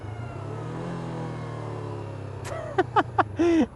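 A 2017 Honda CBR 500R motorcycle engine runs at a steady, low droning pitch close by. A few short, sharp voice-like bursts break in near the end.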